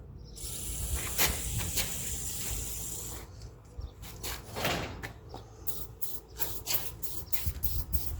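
An aerosol can sprays lubricant through its nozzle into the groove of a bottom rubber seal, a close breathy hiss that runs steadily at first, then breaks into a series of short, sharp bursts.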